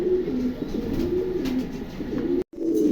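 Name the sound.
Mondi pigeons cooing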